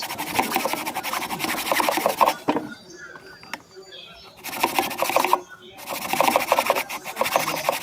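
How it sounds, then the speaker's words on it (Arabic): A drill bores holes into a part of an automatic soap machine in a workshop, whirring loudly in two long bursts separated by a quieter pause. Someone speaks at times. "غادي نتقبلو جوج تقبات هنا"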